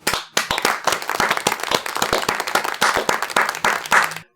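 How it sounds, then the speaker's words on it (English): A smaller group claps enthusiastically, with sharp individual hand claps sounding close and distinct in a quick, irregular rhythm that holds for several seconds before cutting off abruptly. "let's give Scott Bakula a round of applause"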